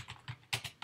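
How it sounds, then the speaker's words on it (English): Quick keystrokes on a computer keyboard as a date is entered, about five crisp clicks in an uneven burst, close and fairly quiet with no talk. "also type in the date"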